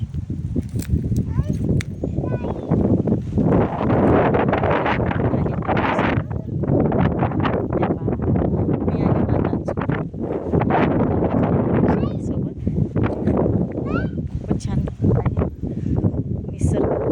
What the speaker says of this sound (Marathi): थंडगार वारा आहे